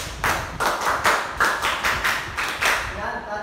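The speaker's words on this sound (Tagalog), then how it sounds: "Bigyan din natin ng 11 palakpak si Lovely" Classroom clapping for a student named Lovely, a run of about ten loud, evenly spaced group claps in a quick steady rhythm, close and crisp, ending abruptly.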